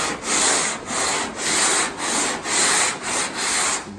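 Filler on a large panel is hand sanded in long back-and-forth strokes, about seven even rasping passes with brief pauses between them, close and loud with no talking.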